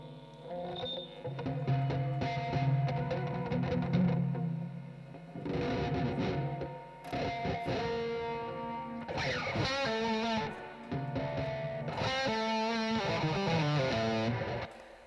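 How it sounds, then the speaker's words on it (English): Electric guitar, a Stratocaster, played clean through a spring reverb, chords and single notes ringing out with a splashy, lingering tail, loud and close, pausing briefly between phrases. "there's an extra reverb coming from the springs from your Strat."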